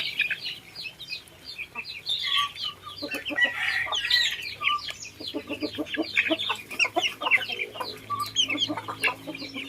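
Free-range village chickens raised organically cluck busily in a dense, overlapping chorus, with the occasional rooster crow rising among them nearby.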